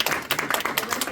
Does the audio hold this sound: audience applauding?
yes